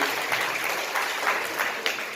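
Loud, dense applause fills a brief moment at a public ceremony, with many hands clapping together steadily and close.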